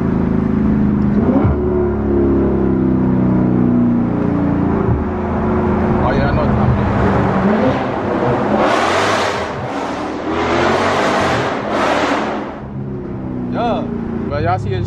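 A Dodge Charger Scat Pack engine revving while driving on a freeway and through a tunnel, a loud continuous rumble rising and falling with bursts of hard acceleration, heard from inside the car.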